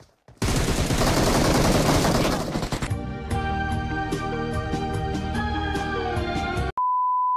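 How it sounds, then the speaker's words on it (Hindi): Rapid gunfire bursts in the mobile shooter BGMI ring out loudly for a couple of seconds, followed by sharp single shots and electronic beeps, ending in a steady tone. "ये तो किधर फायरिंग है"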